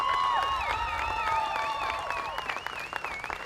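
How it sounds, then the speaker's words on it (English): A crowd at the 2016 Central Iowa Fair applauds the lineup of fair candidates with steady clapping and some cheering, while warbling whistle-like tones ring over the top. "big round of applause"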